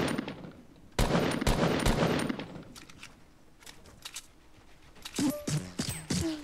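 Rapid automatic gunfire in a first-person shooter video game, loud bursts of shots followed by quieter scattered pops and sharp metallic clicks, with no talking during the shooting.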